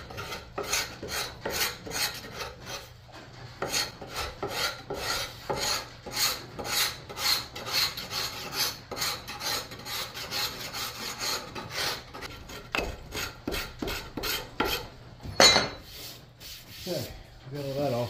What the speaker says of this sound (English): make sure you get all that varnish off of there